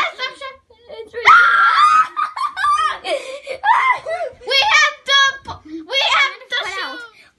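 Children screaming shrilly and loudly in bursts, mixed with giggles and belly laughs, alternating with excited kid chatter indoors during a playful challenge with an Elmo toy.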